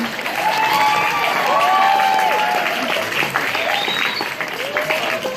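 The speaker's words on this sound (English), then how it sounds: "don't applaud" Audience applause at a comedy set in a cultural center, a dense steady wash of clapping mixed with cheers and whoops, holding loud throughout.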